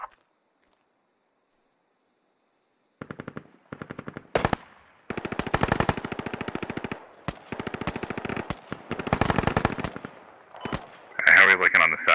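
Bursts of machine gun fire in the Squad video game, rapid rattling volleys repeating in clusters over several seconds, loud and close, with voices talking over parts of it.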